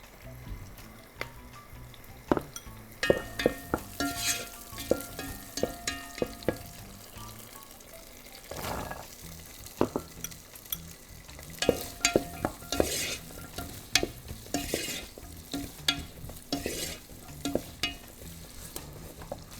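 Onions and meat fry in a pan for a chickpea stew, a continuous close sizzle punctuated by frequent scraping and knocking of a spatula as the mixture is stirred, with no voices.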